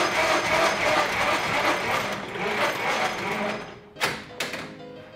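Railway block signalling apparatus being hand-cranked to dispatch an extra train, a dense whirring, ratcheting mechanical rattle running steadily and close, then cutting off with two short sharp knocks at the end.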